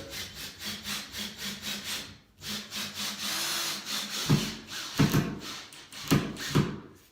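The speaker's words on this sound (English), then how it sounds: "I'm going to take the screw gun and everything, and I'm going to put a screw in over here." A screw gun drives a screw into sheetrock on a wall or ceiling, giving a rhythmic grinding whir in repeated pulses, then a steadier run followed by several sharp louder bursts as the screw bites.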